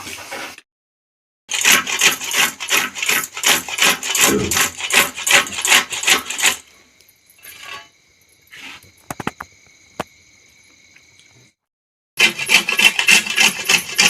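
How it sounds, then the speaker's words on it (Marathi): Coconut is grated by hand in a home kitchen, giving rapid rhythmic rasping strokes in two loud bursts separated by a quieter stretch of small clinks and handling sounds. "खोबरं किसून घेते मम्मी आता."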